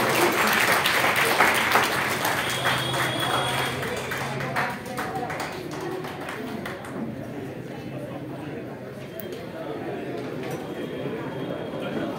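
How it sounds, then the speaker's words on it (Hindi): Applause from an audience at a Quran recitation competition event, steady broadband clapping that fades slightly midway and continues, with voices underneath. "तो जोरदार तालियां डॉक्टर सलीमुल्लाह भाई के लिए।"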